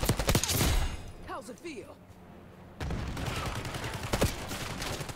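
Automatic gunfire in Call of Duty: Black Ops 6, aimed at a teammate, rattles in two stretches of rapid shots with a short lull between them, while a voice talks over the shooting.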